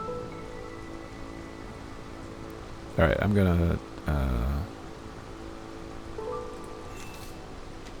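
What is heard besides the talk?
rain falling, from the video game Against the Storm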